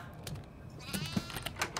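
A goat bleating in a video game, one short wavering bleat rising over a busy backdrop of clicks and game noise, fairly faint and brief.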